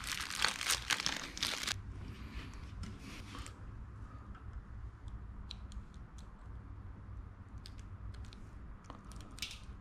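Adhesive backing is peeled off Challenger car emblems, a close crinkly crackle and tearing that is loudest at the start and then gives way to quieter scattered rustles and ticks.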